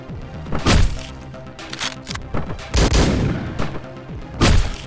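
Several sharp gunshots crack out in a Hotline Miami game scene, spaced irregularly over a busy background of music and effects.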